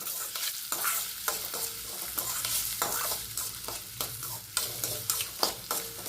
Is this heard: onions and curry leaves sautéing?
yes